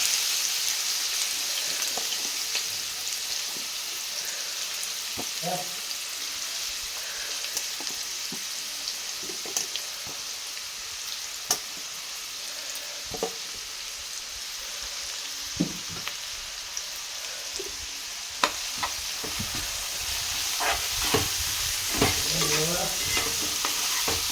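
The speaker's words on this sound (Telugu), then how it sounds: "అందులోనే ఉల్లిపాయలు వేసేస్తున్నాను" Onions sizzle and crackle steadily in hot oil in a pan for a village-style dried drumstick curry, with scattered sharp pops and occasional scraping stirs close by.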